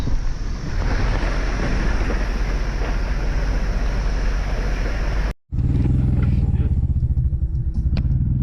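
Steady loud roar of a car driving on a rough mountain road in Nepal between Pokhara and Mustang, with heavy rumble and wind buffeting throughout, a brief dropout, then continued bumpy cabin noise.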